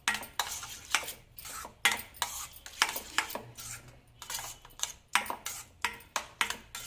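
Grated ingredients mixed by hand in a bowl for a homemade face cream, a quick run of close clinking, scraping strokes against the bowl's side in an uneven rhythm, with no talk.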